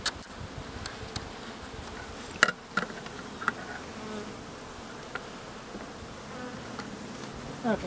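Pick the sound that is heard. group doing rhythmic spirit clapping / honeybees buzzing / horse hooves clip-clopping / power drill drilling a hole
honeybees buzzing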